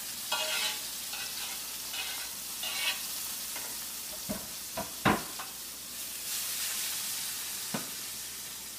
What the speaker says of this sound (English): I've heated some coconut oil in a frying pan, and I'm going to saute some vegetables that I've chopped.